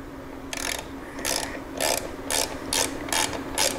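A hand ratchet clicks in seven quick, evenly spaced bursts while working a 5/8 oil drain plug loose on a Harley-Davidson Milwaukee 8 Touring motorcycle, close and clear with no talk.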